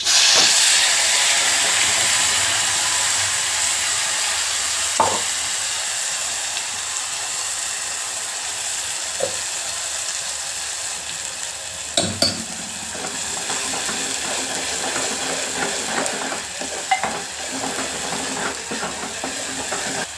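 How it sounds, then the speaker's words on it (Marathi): Curry leaves and masala sizzle in hot oil in a pan, making a continuous loud crackling hiss with scattered sharp pops and clinks of a spoon stirring, close up with no voices. "आपलं तेल गरम झाले, आपण त्याच्यामध्ये कढीपत्ता सोडूया आणि आपण जो मसाला घातला तो सोडून घेऊया."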